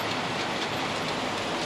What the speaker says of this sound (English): obviously the train will run around there and it'll come around